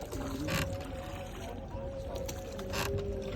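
A rowed fishing boat moves across open water on a river, with steady watery wash and swishing through the clip and faint voices now and then in the background.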